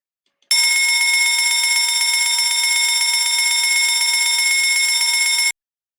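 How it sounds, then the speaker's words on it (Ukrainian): An alarm clock rings in one loud, continuous electronic tone for about five seconds, then cuts off sharply, alone with no other sounds. "Я думаю, всі впізнали звук будильника."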